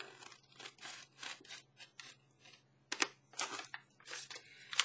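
Small scissors cut paper for a collage journal page, giving a steady run of close, bright rasping snips in uneven rhythm, one after another.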